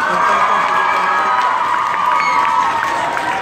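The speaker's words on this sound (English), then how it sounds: "can we give James another round of applause" An audience at a church night event cheers and applauds loudly, with whoops and shouts layered over continuous clapping from a large crowd.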